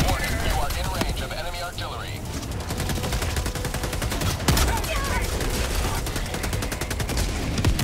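Rapid gunfire in the video game Helldivers, with dense automatic bursts and fusillades rattling almost continuously and loudly while players talk over the shooting.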